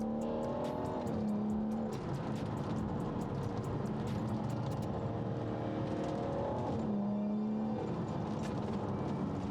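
A tuned 400bhp BMW 640d Stage 2 diesel accelerating hard, its engine note climbing steadily through the gears with a drop at each shift, a sustained loud drone heard from inside the car.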